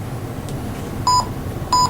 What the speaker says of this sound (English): The engine is starting to beep.